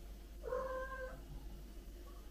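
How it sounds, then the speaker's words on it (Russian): A house cat gives a single short, clear meow, fairly close, against a quiet room hum with nothing else going on. "Да, говорит кошка."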